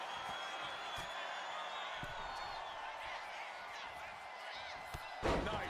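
In the WWE 2K25 wrestling video game, a running crossbody lands with a sharp thudding impact near the end, over a constant roar of arena crowd noise and a commentator talking.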